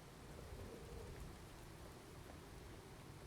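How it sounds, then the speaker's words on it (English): Rain in Skyrim's Whiterun keeps up a soft, steady patter with a low rumbling wash underneath, quiet and unchanging throughout, with no one speaking. "The rain is still raining."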